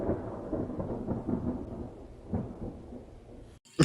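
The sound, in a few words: thunderstorm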